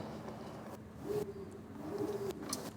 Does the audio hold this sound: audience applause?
no